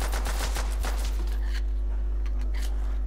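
Rapid automatic gunfire in Call of Duty: World at War's Nacht der Untoten zombies mode, loud continuous bursts over a steady game drone, fading after the first second and a half to sparser shots.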